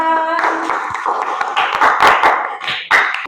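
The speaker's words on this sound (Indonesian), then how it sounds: "Oke, tepuk tangan." Students in a classroom clapping their hands, a scattered burst of claps with a voice talking over it near the start.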